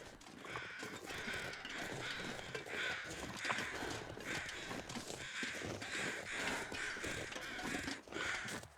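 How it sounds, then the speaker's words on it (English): Carrion crows in The Long Dark video game caw in a dense, overlapping chorus of harsh repeated calls that continues steadily and fairly loud throughout, with no other foreground sound. "Interesting that carrion crows have already found it."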